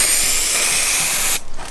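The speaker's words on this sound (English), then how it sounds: "Then, you need to go on an angle and then spray." Aerosol spray can used during a work van to campervan conversion, giving a loud, close, continuous hiss for over a second before it cuts off abruptly into quieter room sound.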